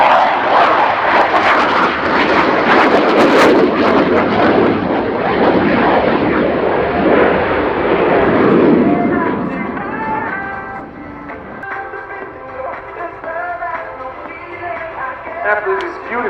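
Loud, roaring jet aircraft engine sweeping through a sustained maximum-performance turn at the RIAT 2019 air display, heavy broadband rumble fading somewhat after about nine seconds, with faint crowd and commentary sounds underneath.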